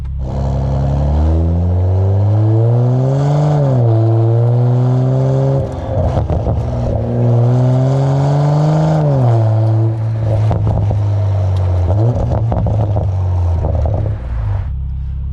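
Inside a car with the windows up, the engine and exhaust drone loudly and continuously, pitch rising and falling as the revs climb and ease off, with a deep rumbling throb throughout.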